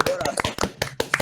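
A few people clap their hands in brief, scattered bursts during a French tech podcast, and talk runs over the claps.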